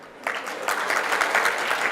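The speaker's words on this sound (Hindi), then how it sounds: "हाँ, ताली बजा दो" A gathering at a Mangal Aarti lecture in Surat breaks into applause after a brief quiet start, dense clapping swelling and holding at a fairly loud level.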